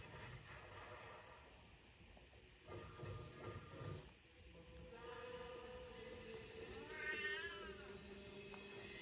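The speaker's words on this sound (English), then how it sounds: "That's cat." A pet cat meows and caterwauls indoors, with a rising and falling cry near the end over steady background noise.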